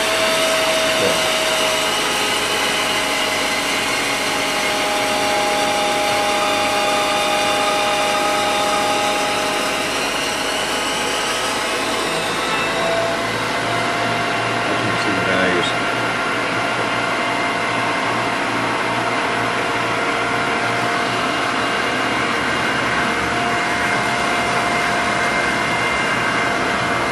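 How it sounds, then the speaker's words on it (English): A PS200 pump running in a dry run test, a loud steady whirring whine that changes tone midway as flow is shut off, continuing as a constant near drone without talk. "There's min flow, turning it off all the way, and now we have the pump stops with dry run."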